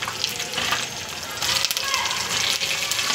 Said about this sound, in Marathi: ओ माय गॉड, दिस देखो तडतडू लागलेला आहे.